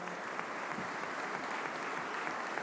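Crowd at a government budget presentation applauds, a faint, distant, continuous patter of many hands heard as an even wash throughout.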